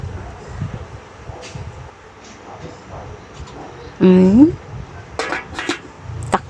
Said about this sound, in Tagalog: Ilagay na natin ang atay. Halu-haluin.